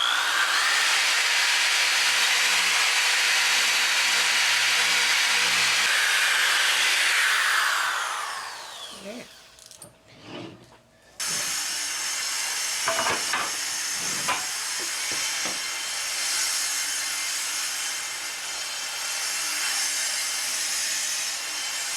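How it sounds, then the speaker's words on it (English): A power sander with 220 grit paper smooths fiberglass edges on a sailboat, roaring loud and steady before spinning down, then quieter bursts of sanding and handling noises follow. "I'm using my circular saw with 220, and it's just to take the little particles out."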